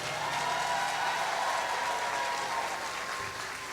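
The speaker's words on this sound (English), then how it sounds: "Let's give them a great big round of applause." Applause from the audience at a Pre-K and kindergarten graduation ceremony, a steady, dense wash of many hands clapping that carries on throughout and softens slightly near the end.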